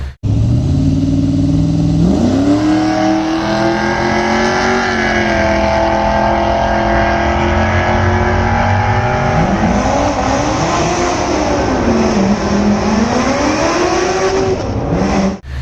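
A loud, close LS-swapped 5.3 V8 Dodge Dakota at a drag racing event, its engine revving and climbing through gears in long rising pulls with a brief tire squeal, continuous and dominant with no talk.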